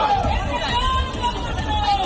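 A crowd of opposition members of parliament gathered outside Parliament House in Delhi makes a dense, close murmur of overlapping voices, a brief, continuous babble.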